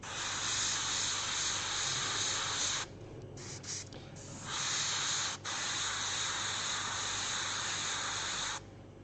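An airbrush hisses steadily as it sprays paint onto a miniature figure's skin, close and continuous, broken by a few brief pauses and short taps.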